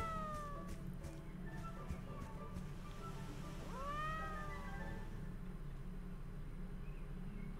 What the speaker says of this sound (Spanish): Pues habrá que seguir al gato.